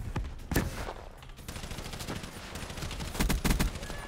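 Rapid bursts of MSMC submachine gun fire in Black Ops 3, sharp repeated shots in several clusters at moderate level, with a loud flurry toward the end.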